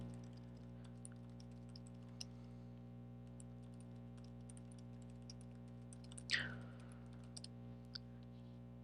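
Typing a footnote on a computer keyboard produces soft, steady key clicks throughout over a low electrical hum, with one slightly louder clack partway through.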